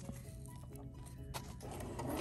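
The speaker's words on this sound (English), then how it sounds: "I'm going to sew forward all the way across the strap." A sewing machine stitches forward across a fabric bag strap, giving a quiet, steady mechanical whir with soft rubbing and scraping, close but low in level and unaccompanied by speech.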